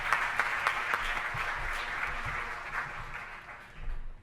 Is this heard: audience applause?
yes